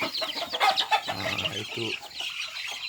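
Chickens clucking in a coop for egg-laying hens on a poultry farm, several close, busy clucks and squawks in quick irregular bursts, loud and near, with no talking.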